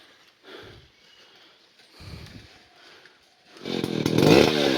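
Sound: chainsaw cutting a tree

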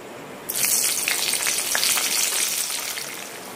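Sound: tempering spices sizzling in hot oil for a curry

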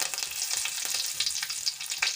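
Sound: whole spices and curry leaves sizzling in hot oil

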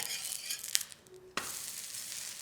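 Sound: gram-flour thalipeeth flipped and sizzling in oil on a pan

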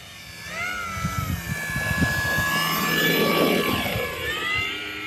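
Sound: FMS Maule 1500mm RC model airplane flying

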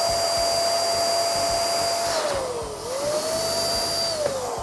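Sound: electric balloon inflating machine running

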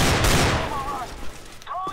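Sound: flashbang grenade going off in CS:GO video game

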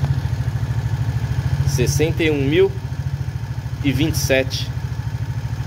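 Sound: Suzuki Burgman 125 motorcycle engine idling

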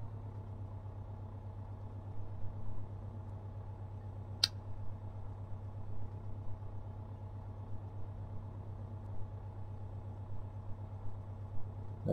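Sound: aircraft engine slow running at low RPM, Flight Simulator X game

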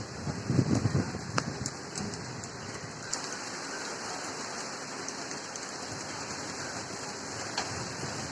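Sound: rain with strong wind

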